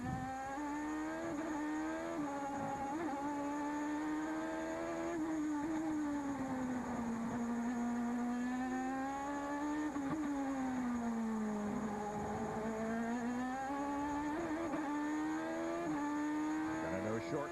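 An IndyCar race car at qualifying on the 2011 Edmonton circuit screams at high revs, its engine pitch rising and falling steadily and bouncing off the rev limiter. Loud and continuous throughout, with commentary over it.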